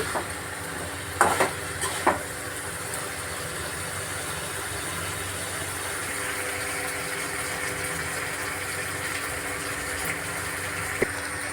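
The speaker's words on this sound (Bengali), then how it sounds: "আলুর সাথে কলা দিয়ে ভালো করে কষিয়ে নিচ্ছি" Raw banana and potato sautéing in a pan: a steady broad sizzle runs throughout, broken by a couple of short scraping stir strokes near the start and a faint click later, with no one talking.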